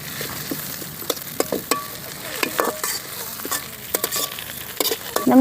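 Drumstick leaves stir-fried in a pan, with a soft continuous sizzle and a spatula scraping and clicking at irregular intervals, up close.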